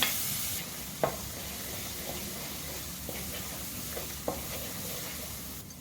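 Garlic paste fries in about five tablespoons of hot oil for a Punjabi kadhi, giving a steady low sizzle with a few sharp clicks of a spoon stirring against the pan.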